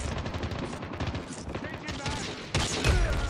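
Sniper rifle gunfire in Call of Duty Mobile, a dense run of sharp shots and game effects that grows louder and heavier near the end, with faint voices mixed underneath.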